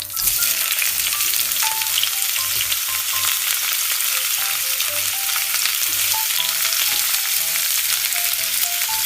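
Onion and tomato sauté in hot oil for sinigang na pata, pork hock in a sour tamarind-style soup. A loud continuous sizzle and crackle runs close and unbroken, with faint stirring beneath and no voices.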